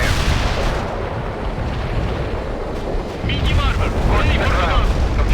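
Heavy artillery and explosions from the real-time strategy game World in Conflict, with a continuous rumbling barrage of booms that grows louder toward the end and a radio voice faintly beneath.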